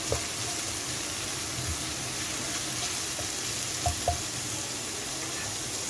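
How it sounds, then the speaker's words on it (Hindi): Ginger and garlic sautéing in a pan, a steady close sizzle and frying hiss throughout, with a few faint clicks of a stirring utensil and no speech. "ये अदरक लहसुन हमारे सौते होना शुरू हो गया है।"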